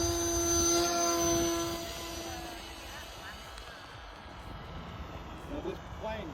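An electric RC model airplane flying overhead at a park, its motor giving a steady, fairly loud whine at half throttle that eases and grows more distant while someone talks over it.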